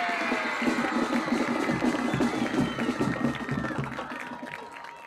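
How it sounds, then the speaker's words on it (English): A crowd in the stands at a high school football game applauds the band sweetheart, a steady wash of clapping and cheering at moderate distance, with a loudspeaker announcer's voice faintly in the mix. "Let's give one more big round of applause for all the outstanding seniors"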